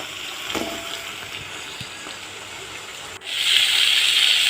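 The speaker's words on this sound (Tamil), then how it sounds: "சும்மா கம்மி ஆயில் விட்டால் போதுங்க வதக்கறதுக்கு தேவையான அளவு மட்டும் லைட்டாக வதக்கிடுங்க" Small amount of oil sizzling in a pan as garlic and ginger are sautéed, a soft steady frying hiss that swells louder toward the end.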